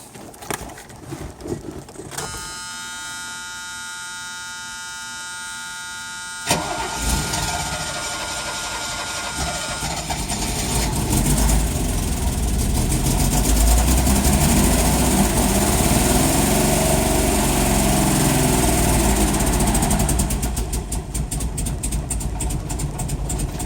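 A 1979 Mercedes-Benz 280CE engine cranks with a ratcheting starter whir, then catches and settles into a loud, rough, steady running rumble.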